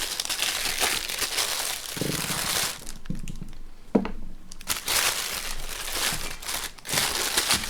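Tissue paper crinkles and rustles close up as it is handled around a painted metal door from a 1:8 scale Ford Falcon XB GT model kit, in irregular bursts with a quieter gap midway and a few sharp crackles.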